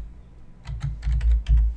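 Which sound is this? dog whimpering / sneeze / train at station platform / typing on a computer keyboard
typing on a computer keyboard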